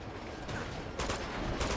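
Shotgun fire in the video game Uncharted 2: Among Thieves, with about three short broadband blasts spaced roughly half a second apart over a low, steady game background at moderate level.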